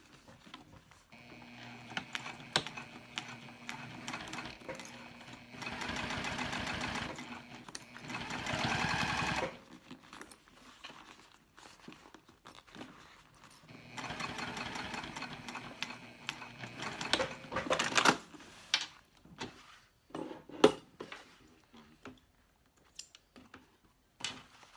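A sewing machine stitches a seam on an all-cork bag in two long motor-driven runs, with a steady whirring needle chatter, separated by quieter handling, clicks and fabric rustling.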